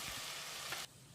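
Steady broadband sizzle of tomatoes sautéing in a hot pan, loud and close, cutting off abruptly near the end and leaving a quieter hiss.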